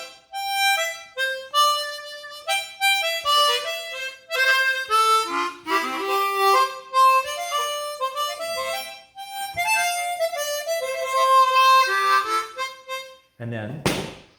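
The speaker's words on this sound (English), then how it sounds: "this is the sound of a single reed harmonica" A customized Seydel Vulcany single-reed harmonica with custom resonant covers plays a quick run of bright melodic notes and bends, close and fairly loud, ending with a brief thump.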